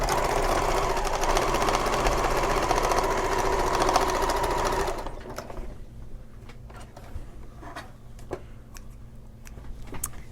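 A sewing machine runs steadily, stitching shoulder bag pieces together for about five seconds before stopping, leaving a quiet room with a few faint clicks and taps.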